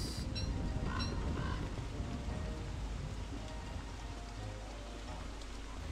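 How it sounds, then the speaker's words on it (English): Steady rain falls in the video game Don't Starve, a dense continuous hiss of drops with low rumbling underneath, even and loud throughout. "Oh, it's raining."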